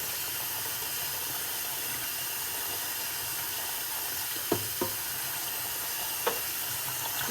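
Tap water runs steadily over canned brown kidney beans being rinsed, a constant hissing splash at moderate level, broken by a few sharp clicks and knocks near the end.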